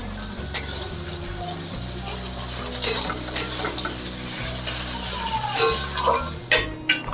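Tomato and green chili sizzle and fry with browned onion in a pan, a steady close crackle broken by sharp clinks and scrapes of a spatula stirring.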